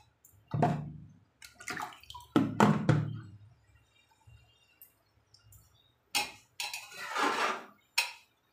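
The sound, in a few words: water being added to the pan for cooking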